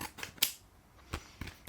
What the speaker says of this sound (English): I need scissors.